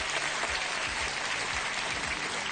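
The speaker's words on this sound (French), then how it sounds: "Applaudissez Esther et Jeff." A studio audience at a French television game show applauding the contestants, a steady dense wash of clapping with no pause from start to finish.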